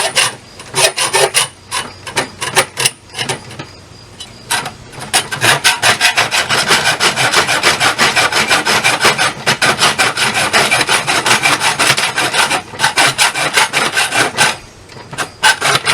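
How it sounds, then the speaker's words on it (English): A hacksaw cuts through material for a squash trellis in steady back-and-forth rasping strokes, loud and close, with a few brief pauses between bursts. "And then just start sawing."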